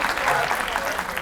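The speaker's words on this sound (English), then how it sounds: "let's give them another round of applause" Audience applause at a Dillard University talk, a short, steady patter of many hands clapping, moderately loud and close, with a voice partly over it.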